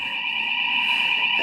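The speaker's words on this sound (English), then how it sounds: "fire alarm" A building fire alarm sounds during its weekly Friday test, a loud, continuous electronic tone held steady throughout with no break.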